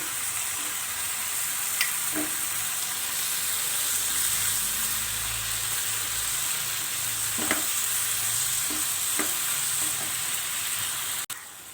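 Onions and chopped capsicum sauté in a pan for a soya chunks Manchurian, giving a steady close sizzle and hiss with occasional scrapes and stirs throughout, no voices.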